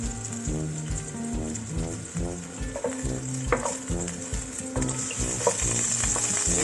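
Brown onion sizzles loudly in a hot pan while being cooked for an okra and bamboo shoot coconut milk dish, a constant close crackle and spatter broken by scraping stirs and a few sharper pops.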